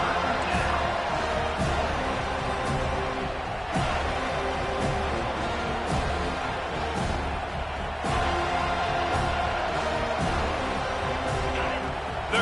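Steady stadium crowd roar from a college football video game, a dense continuous wall of cheering under a commentator's play-by-play during a red zone defensive stand.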